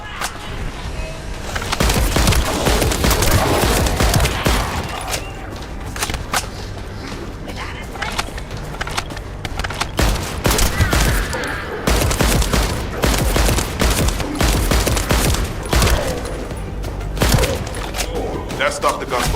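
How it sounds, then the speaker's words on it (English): Heavy gunfire in the shooter video game The First Descendant, rapid bursts and sharp cracks repeating throughout with booming impacts, loud and close, with scattered game voices. "That stopped the gunfire."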